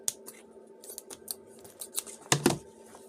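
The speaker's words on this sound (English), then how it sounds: "And then we're going to cut it." Scissors snipping through ribbon while making a handmade bow, a series of short crisp cuts at irregular intervals, ending in a louder double snip close by.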